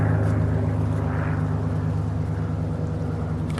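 A small, fully red propeller plane passes overhead, its steady engine drone and low harmonic hum holding loud and continuous throughout with a slight swell partway through.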